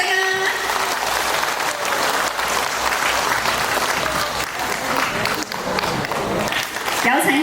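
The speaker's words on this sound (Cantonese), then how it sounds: "我哋再次俾甜甜嘅掌聲啊" A hall full of guests at a Macau temple celebration and award ceremony gives Ms. Choi Tim Tim a sustained round of applause, thick, even clapping that continues for several seconds with little else heard.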